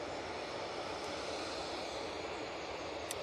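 A Hainan Airlines airliner arrives at Manchester Airport, its engines and airframe producing a steady, loud, broadband roar with no speech heard.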